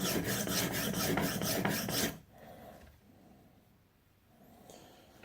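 A knife edge is drawn over a sharpening surface in a quick, even run of about eight loud rasping strokes, then the sound drops to a much quieter, sparse scraping.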